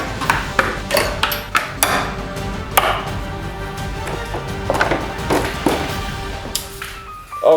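Metal tools tapping and clanking on the rear brake lines under a 29-year-old BMW's underside while they are cut away, a string of sharp close knocks and pings at an irregular pace.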